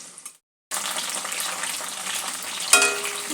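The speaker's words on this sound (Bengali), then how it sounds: "আলুটা সামান্য একটু হালকা ব্রাউন করে ভেজে নেব" Potatoes frying in a pan for a cauliflower curry, a steady close sizzle that starts abruptly after a brief silence and continues without pause, with a sharp brighter crackle near the end.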